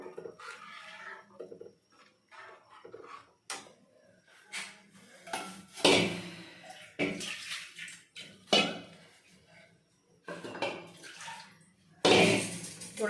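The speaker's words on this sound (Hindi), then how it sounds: "थोड़ा सा पानी और मैंने मिला दिया इसमें।" Water poured and stirred into simmering kadhi in a home kitchen, with a series of separate splashes, swirls and clinks of a spoon against the pot, some loud and close, broken by short pauses.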